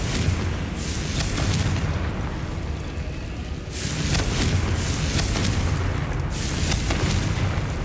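Blasting-spell explosions in Hogwarts Legacy, a series of loud booming bursts, roughly three or four heavy blasts spread across the stretch with rumbling noise in between and no talk.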